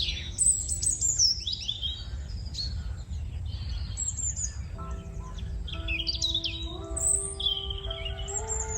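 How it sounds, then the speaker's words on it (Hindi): Several birds chirp and tweet in a forest at dawn, bright overlapping calls scattered throughout, with some sustained whistled tones joining in the second half over a steady low background rumble. "चिड़ियों की चहचहाहट"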